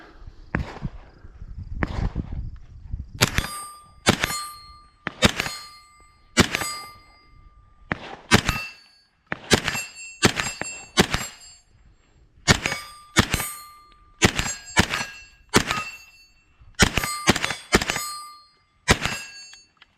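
A Henry Homesteader carbine fed from Glock magazines fires at steel targets outdoors, with about fifteen sharp shots at a steady pace, each followed by a bright ringing ping from the struck steel.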